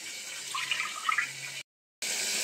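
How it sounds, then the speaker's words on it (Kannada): Water is poured from a cup onto ragi flour in a pot, a soft continuous trickling pour heard up close, followed by a short silence and then a faint background hiss. "ಅದಕ್ಕೆ 4 ವಾಟಿಯಷ್ಟು ನೀರು ಹಾಕೋತೀನಿ"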